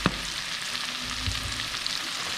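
Meat for a three-meat alfredo fries in a pan with a constant, even sizzle and a sharp clink at the start.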